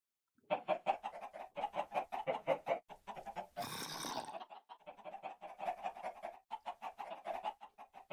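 A bunch of Minecraft Java Edition chickens cluck in quick, repeated bursts, close and steady, with a brief rushing noise breaking in midway before the clucking resumes.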